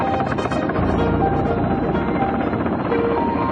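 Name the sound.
Mi-26 heavy transport helicopter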